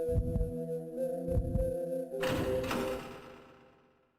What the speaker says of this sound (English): Roll your heartbeat, little buddy.